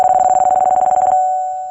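Telephone ringing tone for an incoming call in a dramatized radio story: a loud, rapidly pulsing electronic warble for about a second, then a steady tone that fades out, with no voices.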